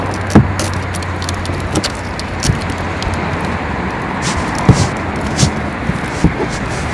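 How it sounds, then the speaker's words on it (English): Truck driving on the road: a steady engine and road rumble with occasional rattling and jangling bumps from the shaky cab, no talking. "We're driving to the FedEx right now."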